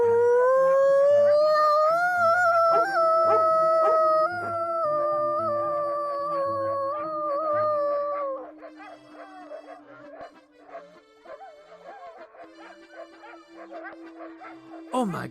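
Several dogs in an animated film howl together in long, loud, wavering harmonized tones for about eight seconds, then fade into scattered yips and whimpers under a sustained lower tone, with voices speaking around them.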